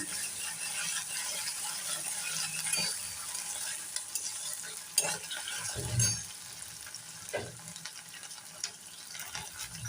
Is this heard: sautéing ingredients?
yes